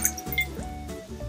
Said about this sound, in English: Begin by slowly pouring one cup of water into the bowl.